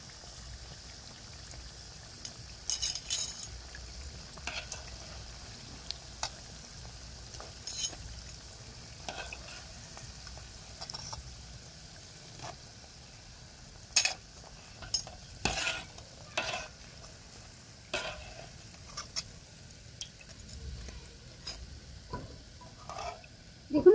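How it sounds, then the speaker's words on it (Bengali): Bread pakoras deep-frying in oil over medium heat, a soft continuous bubbling crackle with scattered sharp pops and clinks of a utensil, close and fairly quiet, no talk. "এইভাবে করে আমি সব পকোড়াগুলো ভেজে নেব"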